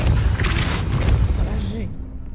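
A Depulso spell blast in the Hogwarts Legacy video game: a loud, broad whooshing burst that fades after under two seconds, with someone talking over it.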